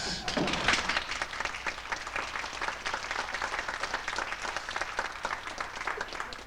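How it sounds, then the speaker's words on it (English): An audience at a community theatre play applauds steadily, with a full, even wash of clapping from a crowd sustained throughout at moderate level. "You may applaud if you wish."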